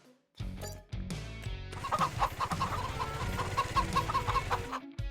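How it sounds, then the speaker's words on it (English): A large flock of hens in the Farming Simulator 25 video game clucks continuously in a dense, busy chorus that is loud and close, with overlapping calls and no talk. "That's a lot of hens."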